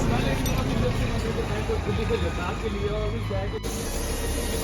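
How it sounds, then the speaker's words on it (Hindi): Compressed air blasting leftover engine oil out of a Hero Xtreme 125R motorcycle during servicing, a steady loud hiss under a busy workshop background, close by and continuous. "इंजन ऑयल ड्रेन होने के बाद एयर से ना जो बचा कुचा इंजन ऑयल है वो निकाला जा रहा है।"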